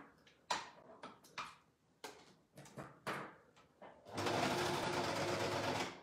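Sewing machine stitching fabric baby slippers, preceded by a few soft knocks and clicks, then a steady fast whirring run of stitches, close by and fairly quiet.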